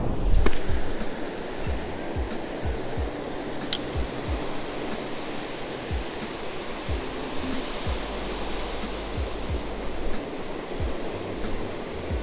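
Steady surf washes across a beach at Oceano Dunes in a constant broad roar, with soft thudding footsteps crunching along the sand nearby.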